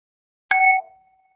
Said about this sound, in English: And I'm gonna ring the bell.